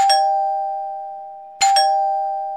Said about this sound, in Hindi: सच में तेरे डोर की बैल बज रही है